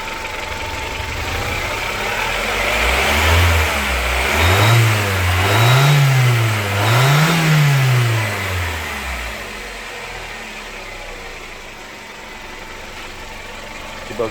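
A petrol engine in a Chevrolet Captiva that has long suffered from weak power, misfiring and shaking is revved several times in a row, each rise and fall clear, before settling back to a steady idle. It sounds close and moderately loud.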